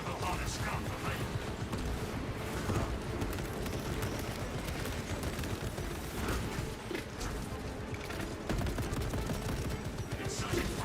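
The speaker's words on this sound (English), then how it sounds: "My servo harness gun will handle this." A servo harness gun fires in Space Marine 2, rapid sustained bursts of heavy automatic gunfire with mechanical clatter, loud and continuous throughout.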